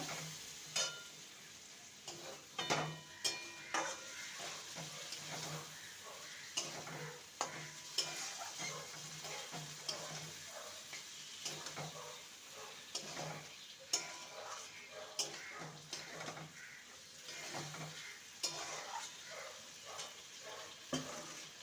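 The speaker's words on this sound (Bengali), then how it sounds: "এবার ভেজে রাখা আলু আর ঝিঙে দিয়ে দেবো মশলার সাথে ভালো করে কষিয়ে নেব" Fried potato and ridge gourd stir-fried in masala, a spatula scraping and tossing in a steady rhythm over a faint sizzle, close but quiet, with no talking.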